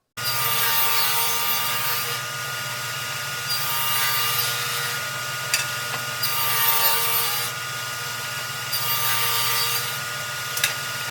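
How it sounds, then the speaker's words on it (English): A table saw rips pine strips to width with a steady, loud whine and rasping cut. The cut swells and eases in several long passes, up close and with no talk. "the first thing I did was rip several strips of pine to width on my table saw"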